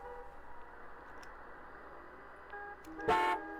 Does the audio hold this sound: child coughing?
no